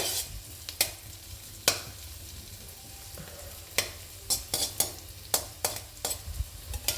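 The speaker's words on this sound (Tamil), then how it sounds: "சிறு வெங்காயம் மட்டும் நல்லா வதங்கிக்கிட்டோம் வெங்காயம் வதக்கும்போது" Small onions sautéing in a pan while cooking pesarattu, a continuous soft sizzle with irregular sharp scrapes and clinks of a spoon stirring, close and alone without voices.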